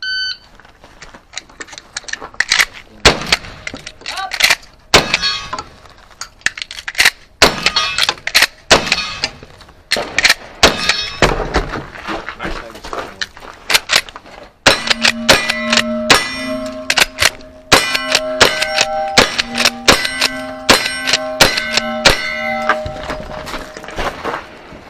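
Pistol fire at a cowboy action shoot sends loud steel targets clanging and ringing in quick uneven bursts, with a run of sustained ringing tones near the end and no speech.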